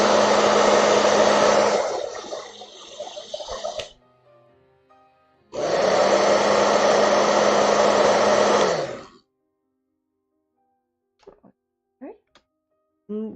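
A hair dryer from a big art easel blows loudly in two long bursts separated by a quiet pause, then cuts off. Faint clicks and brief sounds follow.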